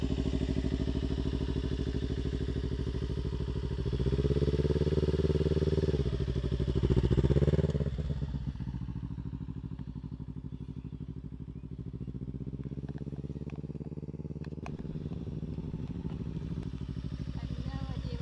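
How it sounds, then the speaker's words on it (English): A motorbike engine runs close by with a steady idling hum, swells twice in revs midway, then settles back to a lower, even drone. "It's a motorbike. You can rev it."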